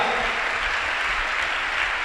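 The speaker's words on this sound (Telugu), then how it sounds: "కొట్టు చప్పట్ల గట్టిగా" A church congregation claps together during a sermon, a dense, steady wash of applause at fairly close range with no break and no speech over it.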